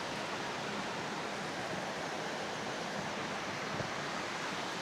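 Spring water flows steadily at Pinamun-an Spring in Barangay Malinao, Nagcarlan, Laguna, a continuous broadband rush with no breaks, faint and even throughout with no voices.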